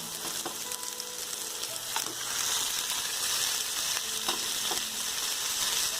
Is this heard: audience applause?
no